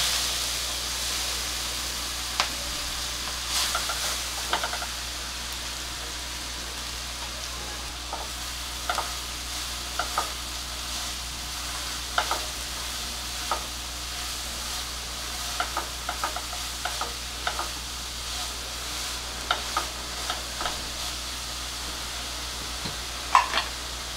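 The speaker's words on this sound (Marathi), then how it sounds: "कढीपत्ता आणि हळद, आणि आता त्याच्यावर ही जी किसलेली पपई आहे ती घालते" Grated raw papaya tipped into a hot tempering of curry leaves and turmeric, stirred with steady scraping taps over a continuous soft sizzle and hiss, close and alone.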